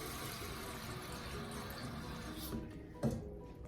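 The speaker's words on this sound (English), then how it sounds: "pour about 500-600 cc water in your pot" A steady stream of water runs into a cooking pot, a broad continuous wash that thins out near the end with a brief splash.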